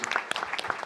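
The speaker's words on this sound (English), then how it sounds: "That deserves an applaud." A conference audience at a Nordic food waste summit breaks into applause: a brief, dense patter of many hands clapping together at moderate loudness, with no talking over it.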